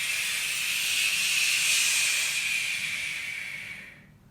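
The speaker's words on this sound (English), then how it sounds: "You should be able to hear the inhale when you're loading, and as you unload and you go towards hitting the ball, you should hear exhale." A long, steady breath of air hisses out close by, swelling then fading away to quiet, the kind of forceful exhale made while swinging through a tennis forehand.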